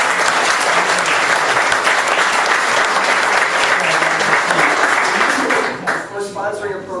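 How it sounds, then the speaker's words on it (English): Loud, dense applause from an audience at a local history talk runs for about six seconds, then fades as a speaker's voice takes over. "if we could give everyone a round of applause"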